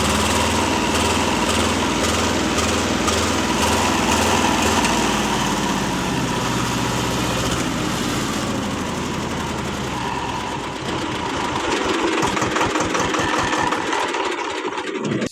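A Swaraj 724 tractor engine held at high revs, a dense continuous mechanical roar with a fast pulsing beat, loud and close, shifting to a lower chugging throb toward the end.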